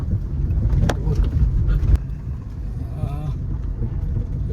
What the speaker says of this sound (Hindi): ये वाटर क्रॉसिंग हमारी होगी चोरल नदी में। ओहो एकदम उतर गई गाड़ी ना